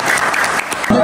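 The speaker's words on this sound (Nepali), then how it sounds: "ताली" A crowd claps at a KPL T-10 cricket team auction, a dense, loud burst of applause over about a second, with a voice rising briefly at the end.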